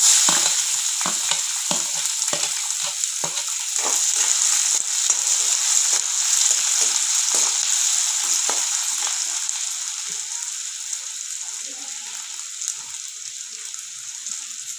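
Chopped onion dropped into hot oil with crackled mustard seeds fries with a dense, continuous sizzle, broken by scattered stirring scrapes in the first half and settling into a steadier, slightly softer fry.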